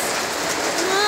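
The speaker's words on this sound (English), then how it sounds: "Torrential downpour indeed. At least it's not really windy." Heavy torrential rain pouring down, heard from a porch on a homestead, a dense, steady hiss of drops close by with no wind.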